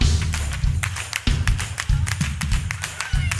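A church congregation claps in rhythm during a choir's gospel song, with sharp, evenly spaced hand claps over steady low musical backing, fairly loud and close throughout.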